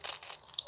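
Plastic wrap is pulled off a Makeup Revolution stick foundation or concealer, giving short close crinkling and tearing bursts with no talk.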